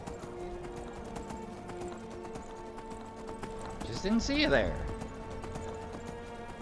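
Horse hooves clip-clopping in the video game Skyrim, a steady quiet trot under a voice talking, with a brief louder rise partway through.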